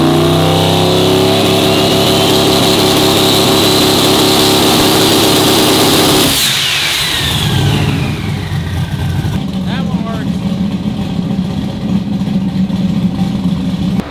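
A turbocharged Chevrolet Nova engine runs loud and close with a steady droning idle, then the pitch drops and shifts partway through before settling into a lower rumble; a voice talks over it.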